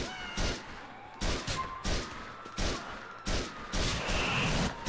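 Heavy rifle shots ring out in a GTA IV gunfight, a sniper rifle among them: about six loud, booming reports fall at a fairly even pace, each one ringing out before the next.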